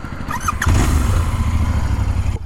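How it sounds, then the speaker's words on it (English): A Royal Enfield Interceptor 650 motorcycle on its stock exhaust idles close by with a steady, low, thumping engine note that swells slightly partway through. "I'm sure that you guys are able to hear the way the bike sounds when it is idling."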